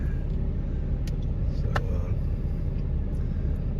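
A newly bought diesel truck engine idles steadily from inside the cab, a low even rumble with a couple of faint clicks and no talk.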